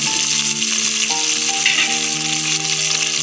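Fenugreek seeds and curry leaves fry in coconut oil for a clam roast, making a close, steady sizzling hiss under sustained background music.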